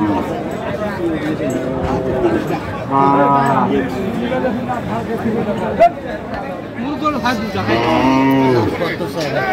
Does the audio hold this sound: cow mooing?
yes